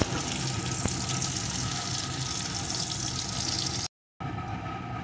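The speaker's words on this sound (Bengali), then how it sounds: "এখন এই তেলের ভিতরে কেটে ধুয়ে রাখা পটলগুলোকে দিয়ে দেবো।" Cut and washed pointed gourd (potol) frying in hot oil, a steady close crackling sizzle that runs without a break, then drops out for a moment and comes back.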